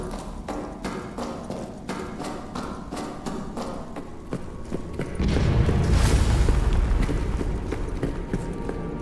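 Gunfire rings out in the horror video game Amnesia: The Bunker. A rapid run of sharp, evenly spaced shots gives way to a heavier, louder booming burst that keeps rumbling to the end.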